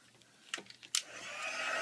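A heat gun blows steadily over embossing powder, its airy whoosh rising after a few soft handling clicks and bumps, close and fairly quiet.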